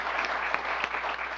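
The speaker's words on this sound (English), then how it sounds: "can you give these all a round of applause?" An audience claps for a newly introduced group of leaders, a dense, even burst of applause filling a short moment with no voices on top.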